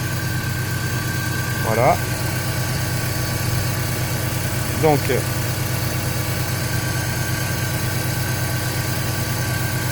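BMW E46 engine idles steadily during a cooling circuit purge, a loud, even low hum that runs through the whole stretch while someone speaks briefly over it.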